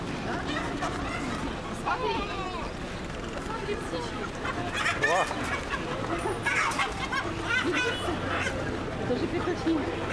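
Chickens and fighting roosters cluck and squawk at a roadside market in Dar es Salaam, mixed into a busy babble of people talking nearby.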